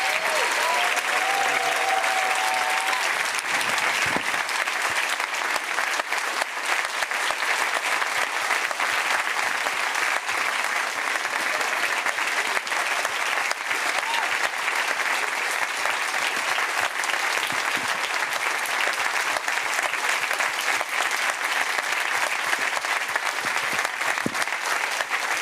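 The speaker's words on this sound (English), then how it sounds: "please join me in another round of applause" Sustained applause from a large audience at the Falling Walls Science Summit 2025, dense clapping that runs unbroken at an even level for the whole stretch, with no voices heard.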